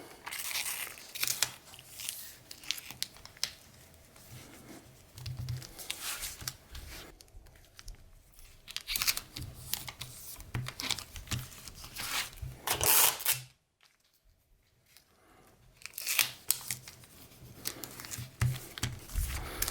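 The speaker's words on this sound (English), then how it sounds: "So I put tape over the front too, just so it's not sticky and messing with me" Tape being pulled, torn and pressed onto leather while making a tooled leather purse: close, irregular crinkling and rustling bursts, with a brief silent gap before the handling noises pick up again.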